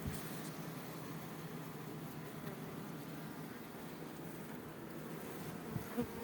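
Carniolan honey bees buzz inside a hive, a steady, dense drone that holds close and even throughout, with a brief knock near the end.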